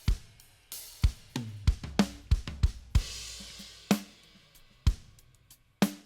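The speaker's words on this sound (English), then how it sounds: "So with the snare and kick, it sounds like this." Mixed snare and kick drum from a studio drum recording, sharp snare cracks and deep kick thumps in an uneven pattern with ringing decays, loud and close, with no talk.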